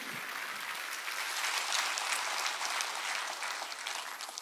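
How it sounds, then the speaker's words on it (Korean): Steady congregation applause fills a church during a Sunday worship service, a dense even wash of many hands clapping alone with no talking, holding at a constant level throughout. "박수로 하나님께 박수를 치라"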